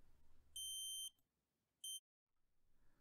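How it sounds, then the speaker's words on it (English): Two shrill electronic tones from an active buzzer on an oscillator circuit on a mini breadboard, the first about half a second long and the second shorter, sharp and clear against a faint background hiss. "An active buzzer is added at the output to make the output waveform"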